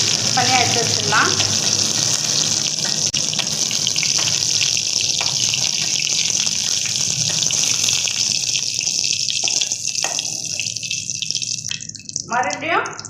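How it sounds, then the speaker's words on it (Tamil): Brinjal (eggplant) pieces fry in oil, giving a continuous bright hiss of bubbling that stays fairly loud and close and thins out near the end, with some voice under it. "இப்போ பாருங்கள் எண்ணெயிலே நல்லா வதங்கிடுச்சு"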